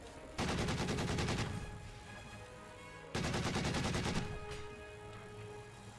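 Two long bursts of DShK heavy machine gun fire in Company of Heroes 2, each a loud, rapid, even stream of shots lasting over a second before trailing off, with a pause between them.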